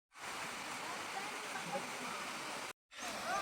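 A waterfall near Araku roars as a steady, broadband rush that stays constant and fairly close. It cuts off abruptly for a moment near the end, then resumes.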